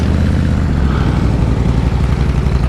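A Yamaha TDM850 motorcycle engine running, a loud, close, steady low rumble with a throbbing mechanical beat throughout.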